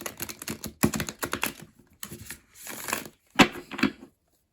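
Rapid riffling bursts of a card deck being shuffled, several quick crackling runs separated by short pauses, close and fairly loud.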